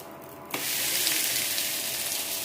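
Adai frying in oil in a pan starts with a sudden loud hiss at the moment batter or oil hits the hot surface, then settles into a steady, close sizzle that carries on to the end.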